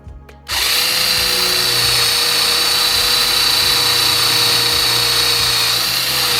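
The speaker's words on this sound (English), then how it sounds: "Let's try drilling through some aluminum and see if we can notice any bigger difference with some more load on there." Cordless drill with a brushless motor retrofit boring into aluminum: after a brief quiet moment it spins up abruptly into a loud, steady high-pitched whine with a gritty cutting edge, holding constant to the end.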